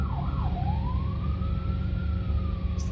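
Police siren wailing in a slow rise and fall, steady and moderately distant over a low rumble, with no voices.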